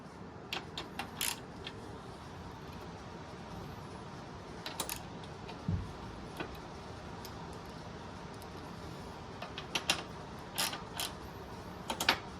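Socket wrench run on bolts while fitting a Tusk motorcycle luggage rack with aluminium panniers, a quiet series of faint metallic clicks and ratcheting ticks scattered in short bursts over low background noise, with no talking.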